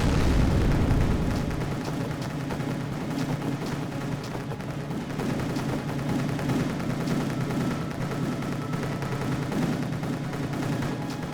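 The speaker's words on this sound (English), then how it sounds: "Around this time, Yugoslavia started nuking him, which doesn't really collapse his country." Dense rumbling booms and crackling bursts of nuclear bombing in the Rise of Nations strategy game, a continuous heavy roar that is loudest at the start and then rolls on steadily with scattered sharp blasts.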